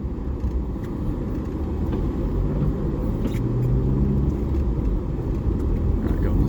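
A Suzuki Alto car doing handbrake turns in snow, with a steady low engine rumble and tyre noise running throughout, close and fairly loud.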